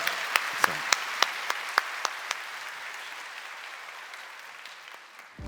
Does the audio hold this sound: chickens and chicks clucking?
no